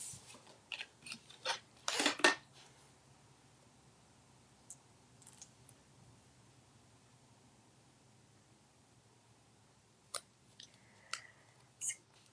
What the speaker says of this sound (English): I'm going to cut out